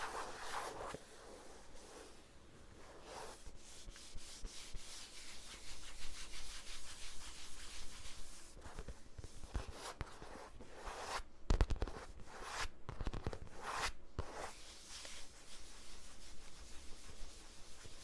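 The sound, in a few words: scratching and shuffling against surfaces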